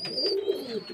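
A brief, soft run of pigeon cooing from feeding birds in a loft, low and continuous, with no voices.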